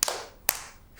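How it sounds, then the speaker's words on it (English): Two sharp hand claps about half a second apart, crisp and close, with a faint third tap trailing at the end, in a children's cartoon song. "clap your hands"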